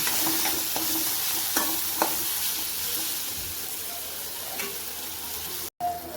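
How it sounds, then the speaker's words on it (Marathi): Onion frying with spices and salt in a pan for a masala egg dish, a steady close sizzle with scattered scrapes and taps of stirring, a brief dropout near the end, no talking. "सर्व मसाल्याने कांदा आपण छान फ्राय करून घेऊया।"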